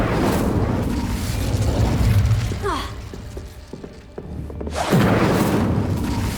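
Incendio fire spell cast in the Hogwarts Legacy video game, a loud sustained burst of roaring, crackling magical fire that dips into a quieter stretch before surging back just as strongly near the end.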